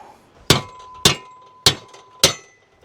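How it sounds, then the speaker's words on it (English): A hammer strikes the bent jack on a dump trailer four times at an even pace, each blow a sharp, loud metallic crack with a short ringing tail, with no talking. "we're going to see if we can whack this with a hammer and make it come off of there"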